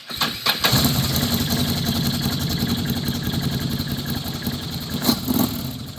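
A Gen 1 Can-Am Outlander ATV engine, just fitted with a new fuel pump, cranks and catches, then settles into a loud, steady rumbling idle with a brief rev near the end.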